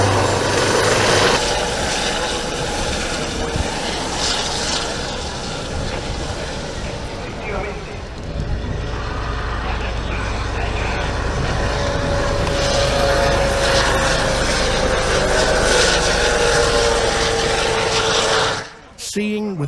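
A Guardia Civil Dauphin helicopter roars loudly and steadily overhead with thumping rotor noise at an airshow in Torre del Mar, mixed with the drone of a Beech King Air 350 turboprop before a sharp cut.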